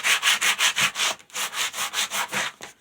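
Wood being hand sanded with 60-grit sandpaper during a guitar build, a rapid, even back-and-forth rasp of about a dozen strokes with one brief pause, close and fairly loud with no voices.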